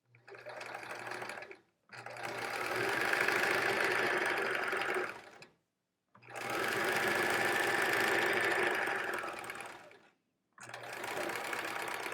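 A sewing machine stitches quilt pieces for a triangle quilt in three long steady runs, each a close, even motor whir with rapid needle rhythm, separated by short silent pauses.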